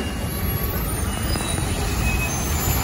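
A bus passes along a flooded road during heavy rain, a broad steady rumble of engine and water running continuously at close range with no clear start or end.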